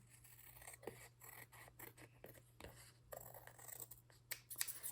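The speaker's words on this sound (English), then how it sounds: "I'm gonna take my scissors" Scissors snip through paper for a junk journal envelope book, a run of short crisp cuts in irregular rhythm, close and fairly quiet over a low steady hum.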